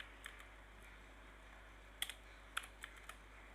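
Typing on a computer keyboard comes in a few sparse, crisp keystrokes, a soft tap first, then a tighter cluster of sharper strokes later, close and quiet over a faint low hum with no voices.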